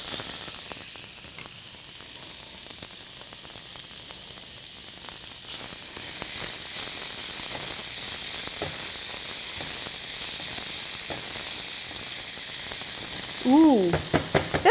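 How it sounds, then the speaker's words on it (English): Onions added to hot butter in a pan, starting as a soft hiss that swells into a steady, brighter sizzle with scattered stirring clicks, and a short squeaky tone near the end. "And I'm just going to add these onions."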